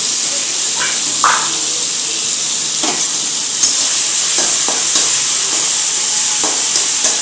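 Capsicum frying in a pan as it is stirred, giving a steady close sizzle and hiss throughout with a few brief scraping stirs, no voices.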